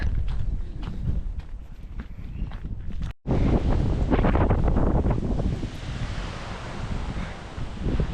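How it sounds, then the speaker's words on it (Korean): Strong headwind buffets the microphone on an uphill stretch of the Camino de Santiago pilgrimage route in rainy weather, a loud continuous roar with gusty surges and a brief dropout partway through, with no talk. "바람이 너무 많이 불어요 역풍이 불어가지고 앞으로 나가기가 너무 힘들어요"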